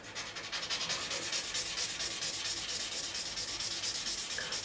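Guitar fret tops on a 2005 Fender Standard Stratocaster being sanded with 800 grit paper, a close, continuous rhythmic scratchy rubbing with quick back-and-forth strokes and no talk.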